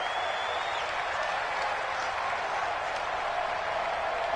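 Stadium crowd at a video game football match, Lions against Falcons, roars as a steady loud wash of cheering and noise, with no break throughout.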